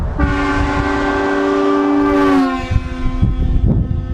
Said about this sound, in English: installed this beast, which is the same type of horn system used on trains and semi-trucks